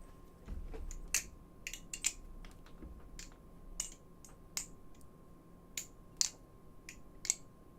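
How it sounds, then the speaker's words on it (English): Keystrokes on a custom-built Damium 65 keyboard with aluminium plate, full foam, tape mod and Durock stabilisers, a steady scatter of crisp, close clacks with a few louder accented strokes over about eight seconds. "Oh yeah, I built a new keyboard."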